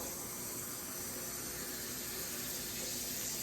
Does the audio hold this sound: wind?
no